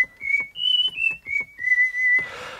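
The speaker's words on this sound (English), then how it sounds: "so you get the effect of two people whistling." Synthesized whistling from a Behringer Neutron synthesizer with two oscillators, one pitch-bent, giving the effect of two people whistling: a sequence of sliding whistle-like tones alone, ending in a breathy noise burst.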